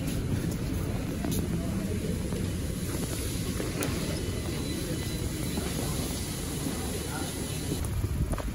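Steady, continuous rumble of a train in motion heard from inside, with wind-like noise and low rattling throughout.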